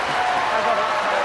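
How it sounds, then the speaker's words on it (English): Rugby league crowd at a Rochdale versus Dewsbury National League One match cheering and applauding a try, a brief wash of distant crowd noise under a commentator's voice. "And that's got the biggest cheer of the night."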